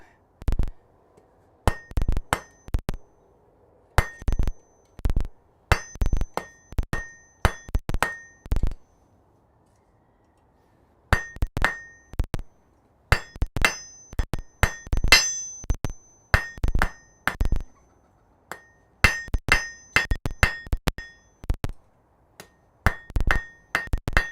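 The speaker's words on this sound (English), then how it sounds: "This is a hammer." A hand hammer strikes hot metal in a smithy in loud, ringing, metallic blows, delivered in quick bursts of several hits separated by short pauses, with a clear clink on each strike and no talking.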